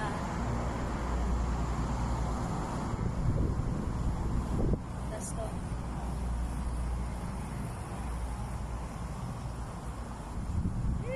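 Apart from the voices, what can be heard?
wind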